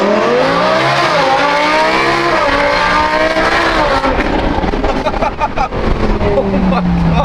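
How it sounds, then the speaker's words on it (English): A Lamborghini V10 fitted with a new F1-style exhaust revs hard close by, its loud, trumpet-like note climbing and falling in repeated sweeps before dropping to a rougher idle. "Like it has the V10 like origin, but it has that SVJ like trumpet sound."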